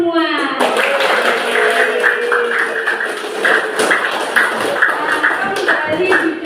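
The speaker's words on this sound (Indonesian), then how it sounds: "Sekarang tepuk tangan semua." A class of children claps together in a steady, busy patter that runs the whole stretch, mixed with loud children's voices calling and chattering over it.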